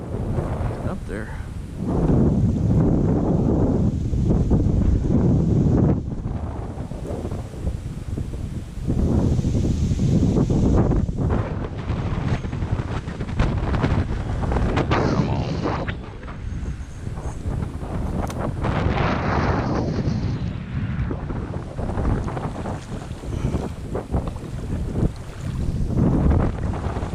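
Strong wind buffets the microphone over the open water of East Fork Lake during boat fishing, roaring in long heavy gusts with brief lulls throughout.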